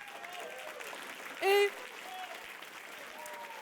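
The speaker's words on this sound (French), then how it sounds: "j'aimerais qu'on l'applaudisse chaleureusement" Audience applause at a 25th-anniversary gala, a moderate wash of clapping under someone speaking, with a brief bright tonal burst midway.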